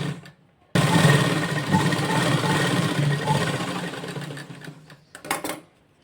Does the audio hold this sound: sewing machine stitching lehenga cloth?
yes